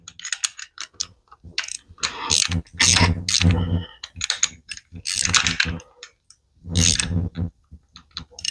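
A socket ratchet turning a nut on a Fiero V6 engine rebuild, with bursts of rapid clicking separated by short pauses, close and fairly loud, no talk.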